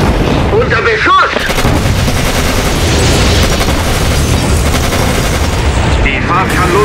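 Battle sounds from the WWII strategy game Codename: Panzers, with dense continuous gunfire, machine-gun bursts and booming explosions, loud and relentless, with voices shouting over the noise.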